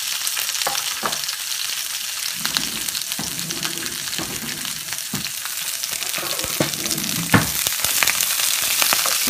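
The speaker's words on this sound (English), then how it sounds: "I want to stir fry this on high." Vegetables stir frying on high heat in a smoking-hot pan for Mongolian beef, a loud continuous hiss and crackle with occasional scraping stirs, no voices.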